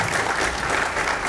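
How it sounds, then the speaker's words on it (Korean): Applause at a church dedication and founding service, a steady wash of clapping from the congregation filling the whole short stretch at even loudness. "크게 박수해 주십시오"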